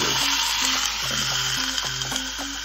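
Partially thawed French fries topped with cheddar cheese cook in a hot waffle maker, making a constant hiss under a simple background melody.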